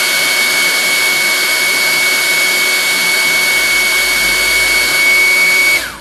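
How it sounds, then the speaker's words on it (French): A handheld hair dryer blows steadily at close range for about six seconds, a loud continuous whooshing motor roar with a faint whine, used to heat and curl eyelashes during a makeup routine, cutting off at the end. "Un sèche-cheveux."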